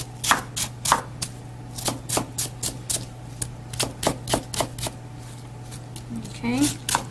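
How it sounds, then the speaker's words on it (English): A knife chops half of a medium sweet onion on a cutting board, giving a steady run of quick, close, sharp taps, with a faint background hum and a brief voice near the end. "right now we're going to chop about 1/2 of a medium-sized sweet onion, and I'm just going to slice it up and dice it up any which way"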